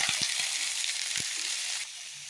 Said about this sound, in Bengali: কালো জিরে দেওয়ার পর আমি ফুলকপিগুলো ভালোভাবে ভেজে নেব।